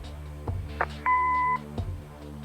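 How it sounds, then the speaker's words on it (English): A single steady electronic answering machine beep from the Kathy Rain video game sounds once, clear and held for about half a second between soft clicks and low room tone. "Leave a message after the beep."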